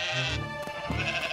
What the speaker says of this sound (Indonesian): aku tidak bisa bicara bahasa domba